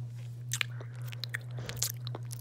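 Close-up chewing and biting noises made with the mouth pressed near a camera, ASMR style, as scattered crisp crunches and wet clicks over a steady low hum, with no talking.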